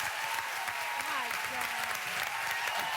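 Studio audience applause fills a television show set after a live vocal performance, a dense, steady wash of clapping that stays loud throughout, with faint voices mixed underneath.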